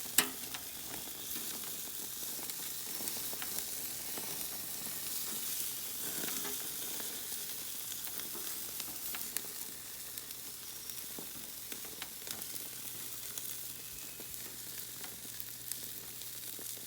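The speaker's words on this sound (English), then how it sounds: "Just enjoy the sizzle." Chicken wings sizzle on a grill with a constant dense crackle and hiss, close and steady throughout with small pops.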